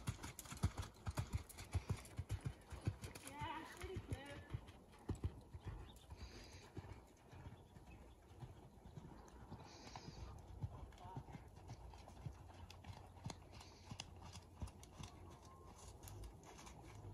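Horse loping, soft hoof beats clip-clopping faintly in an uneven rhythm at a distance, with quiet outdoor background and birds and people talking now and then.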